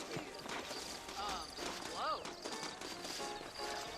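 Horse hooves clip-clop in a Western video game, a rhythmic run of hoof beats heard under ongoing talk and game ambience.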